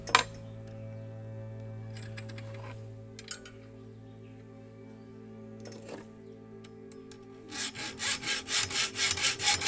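A metal file rubbing back and forth across a crossbow arrow shaft, a steady scraping at first, then a run of quick, evenly spaced rasping strokes that grows louder near the end.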